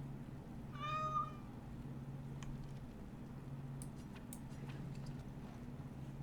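A single short cat meow rises in the middle of quiet ambient hum in Dragon Age: Origins, followed by faint scattered clicks.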